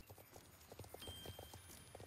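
Horse hooves clip-clop in the Star Stable video game, a steady close run of hoofbeats at a slow walking pace, alone with no talk.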